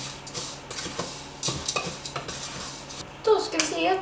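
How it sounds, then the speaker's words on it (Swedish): A spatula stirs crispbread batter in a home kitchen, giving repeated soft scraping and slapping strokes against the bowl, close and steady, with a brighter clink near the end. "Då ska vi röra om det här lite."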